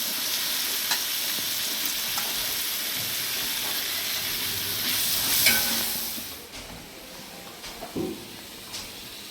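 Ginger garlic paste with coriander and mint sizzles steadily in a pan for biryani, a soft continuous frying hiss with occasional stirring scrapes, fairly quiet and without talk.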